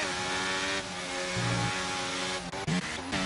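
Race car engines roar past on a track during an overtake into a braking zone, a loud sustained engine drone with a shift in pitch midway and a brief dip near the end.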